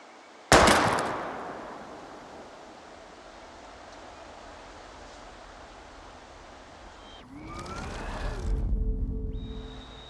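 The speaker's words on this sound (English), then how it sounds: "We're gonna shoot all these bottles without wasting a single bullet." A single sharp gunshot cracks loudly at the start, aimed at bottles in the video game Life is Strange, then a long reverberant wash of ambient noise follows, ending in rising game sounds.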